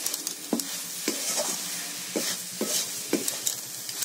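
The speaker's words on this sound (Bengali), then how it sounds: "আমি এটাকে নাড়বো আছে আরও 1 মিনিট" Coconut sandesh mixture being stirred in a pan, a rhythmic series of close scrapes and taps from the spoon against the pan over a faint steady sizzle, with no voices.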